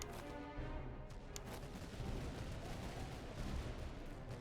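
Canister shot artillery fire in the Napoleonic-era strategy game Master of Command, a faint, dense rumble of distant cannon and musket volleys blending into continuous battle noise.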